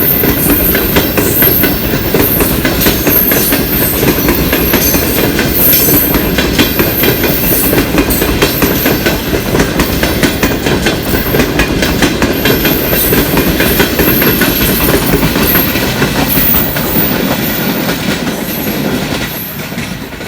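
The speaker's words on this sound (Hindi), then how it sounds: "अभी ये जा रहा है, बहुत वीआईपी रेल है, मगर आज लेट है बारिश की वजह से।" A loud passenger train rushes past close by at a station in Tando Adam on a rainy day, a dense roar of wheels and rattling cars that eases slightly at the end.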